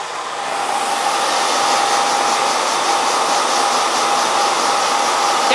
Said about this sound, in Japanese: じゃあ乾かしてきますね。